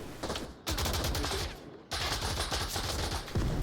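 Rapid bursts of rifle gunfire from the VR shooter Onward, played on a Quest 2, fill the whole stretch, loud and close, with continuous automatic fire broken by brief pauses.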